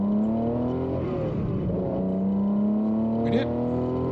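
A car pulls hard in first gear, its engine note climbing steadily, dipping briefly and then rising again, loud and close from inside the cabin. A short vocal sound comes near the end.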